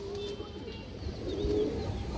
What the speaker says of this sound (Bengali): এই যে দেখেন খুবই সুন্দর একটা কবুতর মাদি কবুতর দর্শক